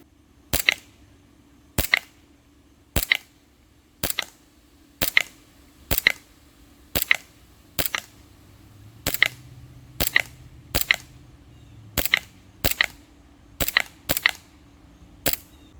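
KnightHawk WE-Tech 1911 airsoft pistol fires single sharp snapping shots at roughly one-second intervals, about sixteen in a row, during an accuracy test at about 30 feet, close and loud with no talk.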